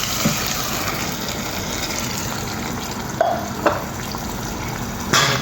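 Ingredients for moringa dal fry, tomatoes among them, sauté noisily in a pan with a loud continuous sizzle and hiss, broken by a few brief spatula scrapes and taps.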